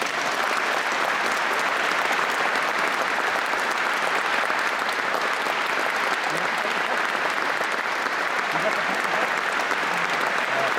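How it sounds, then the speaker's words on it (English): A concert hall audience at a pipe band performance applauds in remembrance, a thick, sustained roar of clapping that stays full and even for about eleven seconds with no voices rising above it. "you just have a little bit of applause in remembrance, respect, and celebration for the person who's gone"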